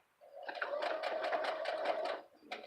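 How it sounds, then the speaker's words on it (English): A sewing machine stitches fabric for a small pouch in one close, steady burst of rapid needle clatter lasting about two seconds, then stops with a brief trailing click. "It is not liking sewing this fabric here."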